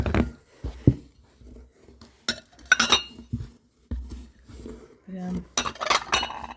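Soviet LFZ porcelain plates clink and knock together while being unpacked, a series of bright, close, irregular clatters separated by pauses, with brief speech in between.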